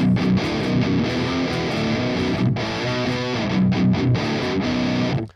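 A Telecaster fitted with EMG pickups plays heavy, distorted riffs through a PV5150 tube amp, a load box and a Torpedo Cab M, giving a dense, loud high-gain tone with chugging palm-muted chords and brief pauses.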